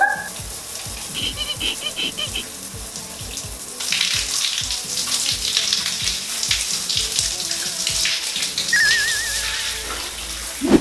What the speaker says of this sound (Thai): เดี๋ยวเราจะมาทดสอบสาดน้ำกันนะคะ